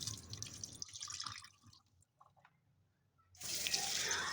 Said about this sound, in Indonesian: Dan untuk tahunya juga sama, ini aku cuci dulu sebelum digoreng.